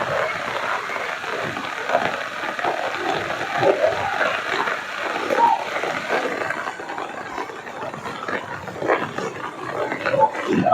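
Rain falling and water splashing along a street on the way to a market, a continuous noisy hiss with scattered splashes and irregular surges, fairly loud and close, with no clear talking.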